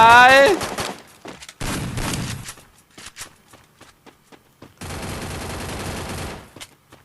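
Gunfire in the mobile battle royale game Free Fire: loud, close bursts of rapid automatic shots broken by short pauses and a few single cracks, with footstep-like taps between them.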